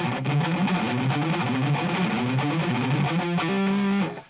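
An electric guitar with heavy distortion plays fast shred-style lines, a dense sustained gritty tone with rapid note changes, loud and alone with no talk.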